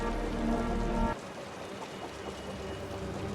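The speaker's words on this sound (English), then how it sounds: "The rain's getting heavier." Heavy rain in the video game Wuthering Waves, a dense steady hiss of downpour that continues after a loud low rumble cuts off abruptly near the start.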